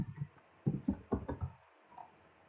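Typing on a computer keyboard while writing Python code, a short cluster of soft clicking keystrokes in an uneven rhythm, near and fairly quiet, with no voice.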